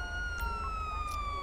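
A police siren from the video game GTA V wails steadily at moderate volume over a low engine rumble, with a continuous tone throughout.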